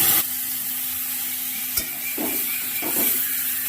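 A spatula stirs spices and cumin paste in a hot pan for a hilsa and eggplant curry, with a few distinct scraping strokes over a low, quiet sizzle and no talking.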